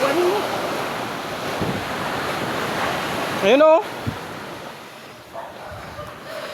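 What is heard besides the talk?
big sea waves crashing on shore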